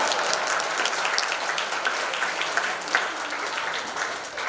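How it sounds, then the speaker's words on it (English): An audience at a closing ceremony claps for a newly appointed district trainer, a moderately loud, sustained patter of many hands that ends with a slight swell. "Clap a bit louder, my clap."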